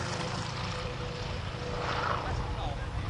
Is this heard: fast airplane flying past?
yes